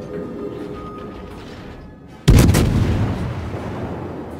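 The HMS Belfast cruiser fires its guns in a naval video game: after a low rumbling lead-in, a single sharp, loud cannon blast sounds, then a long booming decay.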